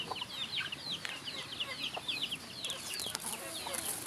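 Backyard flock of chickens with their chicks, repeated high peeping and clucking in quick overlapping bursts, fairly close and steady throughout, with faint background noise and no clear talk.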